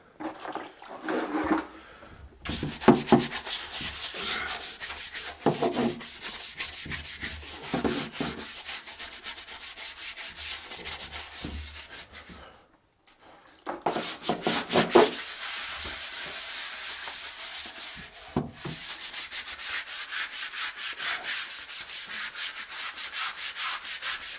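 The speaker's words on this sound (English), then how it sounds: "So give it a good old scrub now." Vigorous scrubbing of a dirty surface, rough rasping strokes in long bursts broken by two short pauses, close and fairly loud with no talk.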